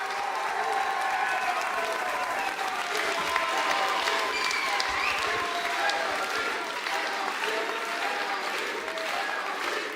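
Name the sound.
audience applause for Clémentine Autain at a political rally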